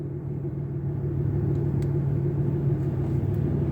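A 2018 RAM 2500 pickup truck rolls slowly into a shop, its engine a steady low rumble at idle, close and constant throughout with no talk.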